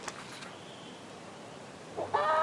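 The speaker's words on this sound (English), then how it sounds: "What is that sound coming from that barrel? Cheap, cheap, cheap, I think it is. A green chick." In the video game King's Bounty 2, a green chick chirps from inside a barrel: a faint high cheep at the start, a quiet lull, then a short burst of bright chirping near the end.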